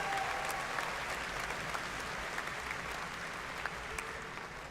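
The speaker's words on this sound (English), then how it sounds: "Another big round of applause for all of those folks that work hard." An audience at a university's spring commencement ceremony claps in sustained, dense applause that stays fairly even and then tapers slightly, heard from within the crowd, with no speech over it.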